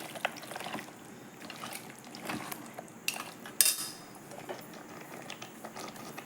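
Goat head and paya are mixed with masala in a metal pot, giving faint scraping and clinking of a utensil against the pot with soft, irregular stirring noises at close range.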